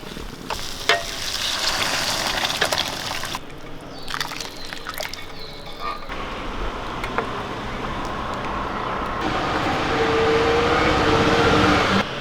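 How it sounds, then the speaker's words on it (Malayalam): Cooked lentils go into a pan of small onion sambar, making loud continuous sizzling and bubbling with sloshing and clattering stirs that change in texture partway through, close by with no talk. "നമ്മൾ വേവിച്ച് വെച്ചിരിക്കുന്ന പരിപ്പ് ഇതിലേക്ക് ഒഴിച്ചു കൊടുക്കാം"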